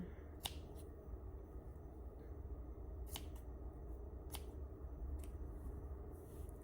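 A few sharp, crisp snips ring out at intervals over a low steady rumble, with no one talking.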